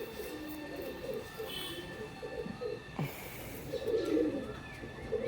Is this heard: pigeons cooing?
yes